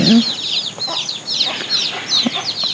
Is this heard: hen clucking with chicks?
yes